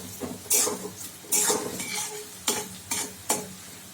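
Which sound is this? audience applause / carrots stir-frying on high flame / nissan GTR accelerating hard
carrots stir-frying on high flame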